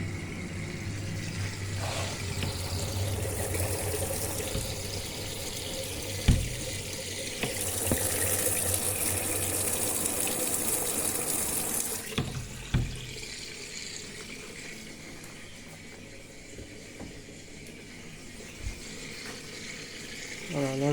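A Brandt washing machine with a 500 rpm spin is rinsing, with steady broadband rushing of running water throughout and a brighter, harsher surge of flow partway through, plus a few soft knocks.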